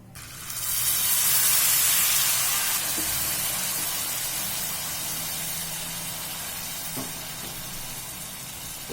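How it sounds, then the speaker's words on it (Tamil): Steady bubbling hiss of milk with vermicelli simmering in a pan, loud and continuous, with faint occasional clinks. "பாதி ஊத்தி நல்லா கொதிக்க விடுவோம், வேகட்டும்"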